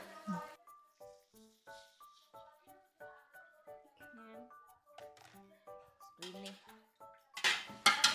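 Water poured into a pan of sautéed spices gives a short, loud sizzling rush near the end. Soft melodic tones play throughout before it.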